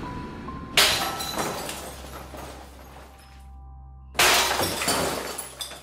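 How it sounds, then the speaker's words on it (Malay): Glass shatters in a kitchen as a horror-story sound effect: two sharp breaking crashes a few seconds apart, each with a bright tinkling spray of shards decaying over a low background hum. "dekat dapur bunyi kaca pecah"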